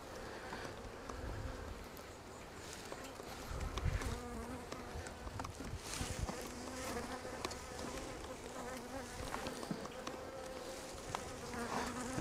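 Honey bees hum continuously around an open Flow Hive during an inspection, a dense, steady buzz with individual bees passing close and faint handling noises.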